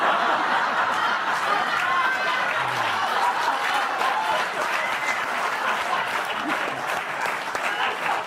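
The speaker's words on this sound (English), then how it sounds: "Oh, keep clapping." Studio audience at a late-night television talk show applauds steadily and loudly throughout, with scattered cheers and laughter mixed into the dense clapping.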